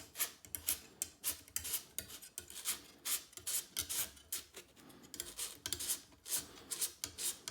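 A replacement carbon quiver tip for an Abu fishing rod is sanded down by hand, producing quiet, rhythmic rasping strokes in quick repeated bursts with no talking.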